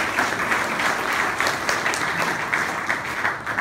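Audience at a corporate solutions showcase applauding its sponsors, steady dense clapping that fills the room from start to finish, loud and continuous with no speech over it.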